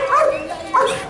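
A Belgian shepherd dog at an outdoor commemorative event gives two drawn-out, whining yelps, loud and close, with a voice talking underneath.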